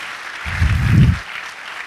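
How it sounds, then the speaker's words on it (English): An audience applauds its female athletes in a short, modest burst of clapping that swells and then quickly dies down. "can you give them another round of applause?"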